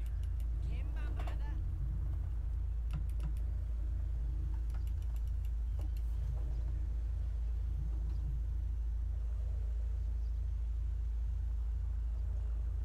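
A 1999 Honda Civic engine in the video game GTA 5 idles with a steady low rumble through the whole stretch. There are a few faint clicks and rattles over it.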